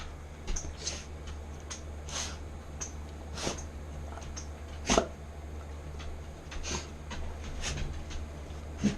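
A bird dog snorts and sniffs close by in short irregular bursts, a few louder puffs standing out over a low steady hum, with no talk.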